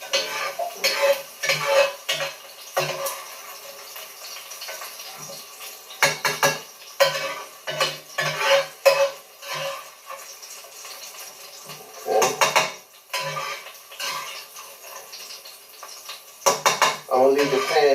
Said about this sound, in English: Okay, drain the oil as much as you can.